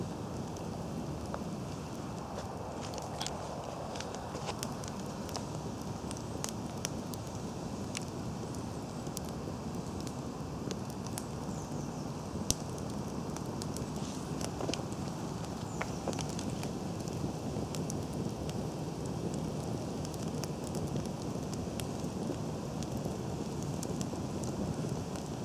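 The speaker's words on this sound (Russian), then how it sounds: "Костер занялся." A fence-style log campfire burns steadily with a dense, rushing roar and scattered sharp crackles and pops throughout.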